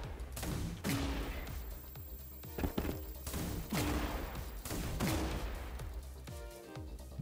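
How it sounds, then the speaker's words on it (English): A rocket launcher fires repeatedly in the video game Wrack: Exoverse, with loud booming blasts and thuds over a steady game backdrop, spaced about a second apart. "Rocket launcher."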